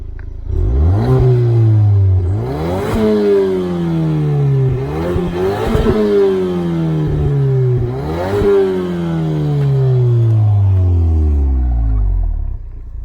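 Loud revving from a 2020 Ford Focus ST engine and exhaust, rising and falling in four or five repeated throttle blips, each climbing in pitch then sliding down, close and continuous with no talk.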